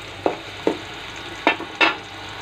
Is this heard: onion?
yes